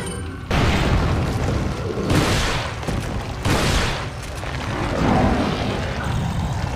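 Bomb blasts in Resident Evil 4 HD Project, loud booming explosions landing repeatedly over a dense, rumbling battle din, with broadband bursts rising and decaying about every second and a half.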